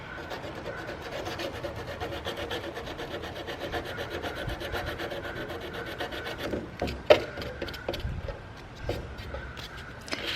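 Sandpaper rubbing chalk paint off the corners of a metal cubby shelf, a steady close scratchy rasp of repeated strokes, with a few sharper scrapes and knocks near the end.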